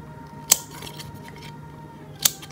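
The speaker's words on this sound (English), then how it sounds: "And then we're gonna trim the sides over here" Scissors trim a cardboard cereal box for a doll crib craft, giving two crisp, close snips about two seconds apart in a quiet room.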